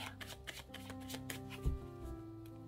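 Tarot cards shuffled and drawn by hand during a five-card reading, a steady run of soft papery riffles and flicks with one firmer thump near the middle, close and quiet with no talk.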